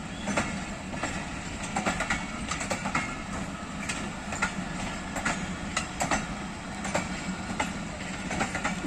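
Hazara Express passenger train rolling along the rails, a steady rumble with regular clickety-clack wheel beats and occasional metallic clanks, heard close, with no talking.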